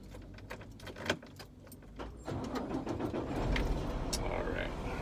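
A JB Hunt semi truck's diesel engine cranks and catches with a rumble that settles into a steady idle. Keys jangle and small cab clicks come first, and someone talks over part of it.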